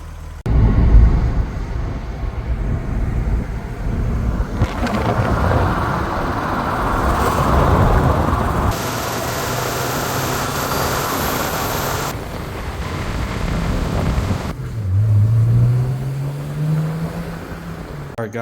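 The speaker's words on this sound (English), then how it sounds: "we're going to go cruising the E30" A BMW E30 cruising down the road, its engine a steady drone with rising and falling revs as it travels, joined by broad road and wind noise throughout.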